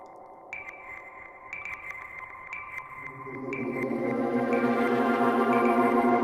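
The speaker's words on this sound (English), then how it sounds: "So you can hear the reverb on the clav." A clavinet in Maschine MK3 plays short repeated notes through a delay effect that echo and pile up into a thick, sustained wash, growing louder toward the end.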